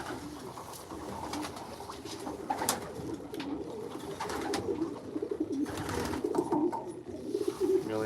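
Young racing pigeons in a loft, with repeated soft throaty coos from several birds over light rustling and shuffling, close by and fairly steady throughout.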